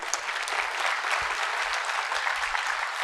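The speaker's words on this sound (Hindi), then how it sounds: "एक बार फिर से जोरदार तालियां।" A crowd at the Bharat Literature Festival claps hard and steadily, with dense applause filling the hall from start to finish and no pause.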